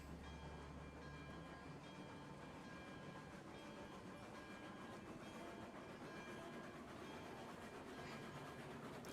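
A long freight train rumbles steadily in Railroads Online, with a dense, continuous roar of wheels on track and faint clickety-clack throughout.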